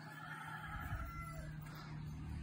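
A chicken or rooster calls in a steady drawn-out cluck or crow, faint and distant over low outdoor background noise, with no voices.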